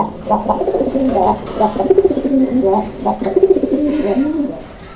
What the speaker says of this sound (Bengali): প্রত্যেকটা কবুতর প্রত্যেকটা জোড়াই কিন্তু আলহামদুলিল্লাহ অ্যাক্টিভলি ডাকাডাকি করে